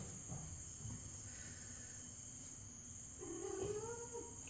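A person imitates a cat during an acting and guessing game, giving a drawn-out meow-like call near the end over a quiet room hum with a steady high whine; no other talk.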